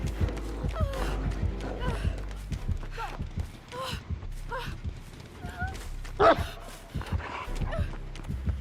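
A dog in the Dead by Daylight video game barks and yips in short repeated bursts, mixed with game sounds and players talking over it.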